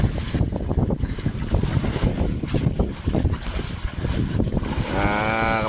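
A fishing boat engine roars over choppy, rough sea while tuna fishing, with waves slapping and wind buffeting the microphone in uneven surges.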